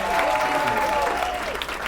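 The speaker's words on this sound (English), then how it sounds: "Give it a sweet clap." An audience claps steadily in a dense round of applause at a charity show. A voice speaks over the clapping.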